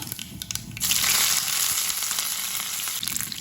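A small sprig of curry leaves dropped into hot oil while cooking idiyappam, bursting into a loud, crackling sizzle after a brief quieter moment, then a steady frying hiss close by.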